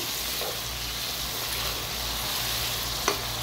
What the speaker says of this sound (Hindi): अच्छे तरीके से मैं इसकी भुनाई करती रहूंगी।